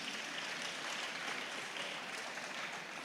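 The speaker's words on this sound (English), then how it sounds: "Can I give all our sponsors a big round of applause" An audience at an agriculture symposium gives the sponsors steady, dense applause, a continuous even patter of many hands at moderate distance with no voices on top.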